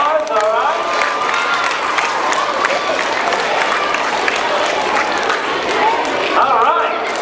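An elementary school audience at an anti-bullying magic show claps and cheers, a dense, steady roar of applause with children's voices mixed in throughout.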